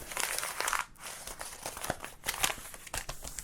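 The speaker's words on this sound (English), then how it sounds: "To make this look a little bit more old, you can sort of crumple it up a little bit" A double-sided paper letter being crumpled by hand to look aged, a steady close crinkling and crackling that runs for several seconds with brief pauses and sharper crunches.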